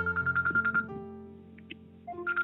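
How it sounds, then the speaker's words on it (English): A telephone rings in repeated short electronic bursts, fairly clear but somewhat distant on a call line, with a gap of near quiet before the ringing resumes. "I hear ringing in the background."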